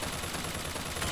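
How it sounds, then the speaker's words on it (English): Gunfire in the shooter video game Bioshock Infinite, a dense, continuous rattle of rapid shots filling the short span at moderate loudness. "Who's that shooting?"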